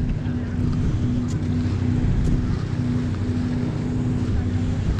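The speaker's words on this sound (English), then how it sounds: "The wind has picked up." Steady wind gusting outdoors by the water where people are fishing, a constant broadband roar under low droning hum, continuous and fairly loud throughout.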